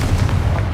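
Explosive spell blast in the video game Hogwarts Legacy, a dense booming burst with heavy low rumble filling a short moment at steady loudness.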